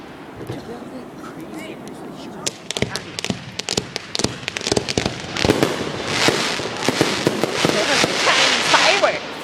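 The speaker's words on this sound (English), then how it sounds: "Fireworks!" Fireworks show with sharp bangs and crackling bursts, sparse at first and then growing into a dense, loud barrage, with people talking and exclaiming throughout.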